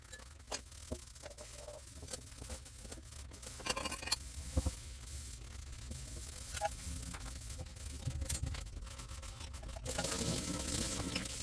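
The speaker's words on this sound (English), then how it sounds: "I'm about to use some Barkeeper's Friend on this sink, and that always has some great scrubbing sounds" Someone scrubs a kitchen sink with Bar Keepers Friend powder cleanser, giving a close, continuous rasping rub with uneven strokes and a few sharper scrapes, and no voices.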